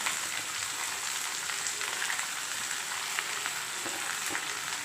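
Onions, curry leaves and green chillies fry in hot oil for kara kuzhi paniyaram, giving a steady, close, dense sizzle with faint crackles throughout and no voices.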